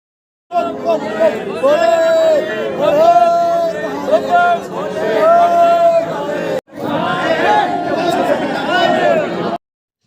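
A dense crowd of devotees at Deoghar temple for Shringar Puja darshan, loud overlapping chatter and shouted voices close by, with a brief break partway through before the babble resumes.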